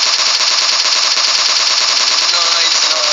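Rapid automatic gunfire from the PUBG video game rattles in a continuous, loud stream of closely spaced shots across the whole stretch, dense and unbroken.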